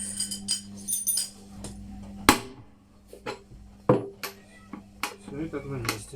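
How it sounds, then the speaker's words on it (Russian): A light hammer taps a bearing into place in an Indesit washing machine drum, giving a few sharp, isolated metallic knocks spaced seconds apart, mixed with clinks and a person talking. "Легкий молоток."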